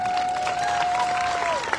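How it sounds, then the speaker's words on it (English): At the 2025 Jackson Apple Festival, a crowd claps briefly for a newly crowned festival queen, a short burst of applause with a thin whistle-like tone running through it. "Give her a big round of applause."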